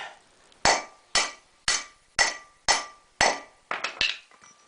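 A hammer strikes a heavy-duty socket eight times at a steady pace, seating a front wheel bearing on a 2001 Ford Ranger, each blow a sharp, close metallic clang that rings out briefly, with the last few hits coming faster.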